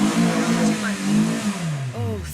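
A car engine strains and revs under load as the clutch slips and burns, its pitch rising and falling in a loud, continuous drone, up close.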